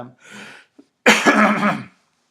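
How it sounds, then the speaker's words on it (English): A short throat sound, then one loud harsh cough close to the microphone, followed by silence. "sorry, I've been coughing through all of these"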